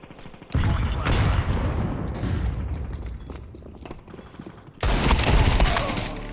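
A grenade going off in a video game: a sudden loud blast with rolling rumble, then a second heavy burst of gunfire and explosion noise near the end.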